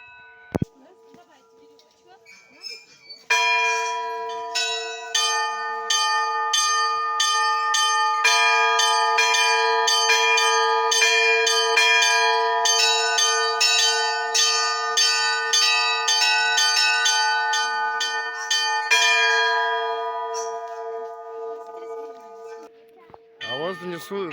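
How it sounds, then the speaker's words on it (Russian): Church bells ring at the New Athos Monastery, heard from a hilltop viewpoint above it: a steady pealing of several tuned bells with sharp repeated strikes and long ringing tones, loud and continuous for about twenty seconds before fading, with faint talk near the start and end. "И тут бьют колокола."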